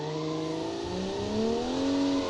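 A 1980s JDM race car engine revs steadily in BeamNG, a close, loud, smooth tone that climbs in pitch as the car pulls out of a corner, with no talk over it.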